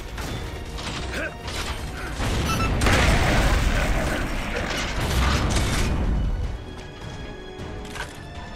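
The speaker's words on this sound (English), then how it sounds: "Throwing frag." A frag grenade goes off in a video game, a loud sustained rumbling burst with mechanical clatter that swells for several seconds and then fades back to game ambience.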